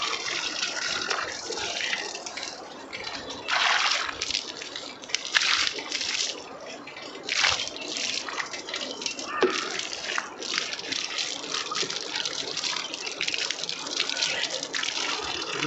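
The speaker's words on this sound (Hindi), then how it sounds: "बाल्टी की तरफ चलते हैं और बाल्टी से पानी यहाँ फेंकते हैं" Water splashing from a bucket onto the ground in a farmyard, with repeated broadband splashes and sloshing bursts, fairly close, continuing steadily over ambient noise.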